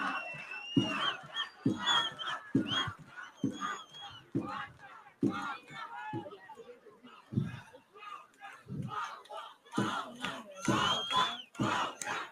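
A large TV studio audience cheers and shouts loudly in bursts, voices overlapping with rhythmic chanting and applause-like swells.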